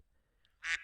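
A person imitates a duck with a single short, nasal quack, loud and close after a near-silent pause.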